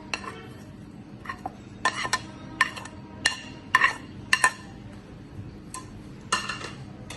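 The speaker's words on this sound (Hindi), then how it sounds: "एक प्याली दही की इस तरह से अच्छे से हमने फेंट लेना है" A cup of yogurt is whisked in a bowl, with a spoon or whisk clinking and scraping against the dish in irregular close taps and rattles over a quiet background.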